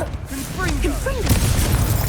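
In Hogwarts Legacy, a short spoken call gives way to a Confringo blasting curse that bursts with a sharp, booming explosion, followed by a loud, rough rumble filling the last moments.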